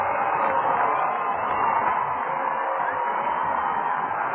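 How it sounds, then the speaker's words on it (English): Minor-league baseball crowd at a Cedar Rapids Kernels home game, roaring in a frenzy late in the ninth inning; a continuous distant wall of cheering and yelling, thin and radio-like, with no break. "This crowd is in a frenzied state."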